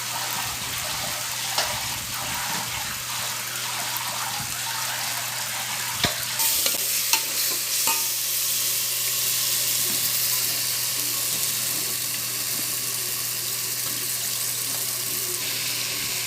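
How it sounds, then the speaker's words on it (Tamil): Ingredients for a home-cooked dum biryani sautéing in a pan, a continuous loud hiss of frying that grows brighter partway through, with scattered stirring clatters and no voices. "நல்லா வதங்கணும் அது ஒரு டென் மினிட்ஸ் ஆகும் நல்லா வதக்கி இருக்கணும்"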